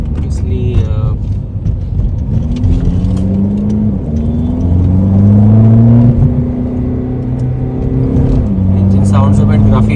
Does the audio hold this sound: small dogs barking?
no